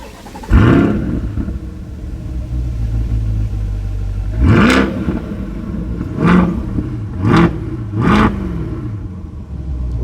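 A 2020 Chevrolet Corvette C8 engine revs hard from idle in four sharp blips, each climbing quickly and falling back to a deep rumbling idle, loud and close with no talking.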